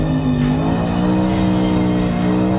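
A BMW M3's 4-liter V8 screams at high revs near its nearly 9,000 RPM redline, a loud, continuous, close engine wail whose pitch shifts slightly as the revs change.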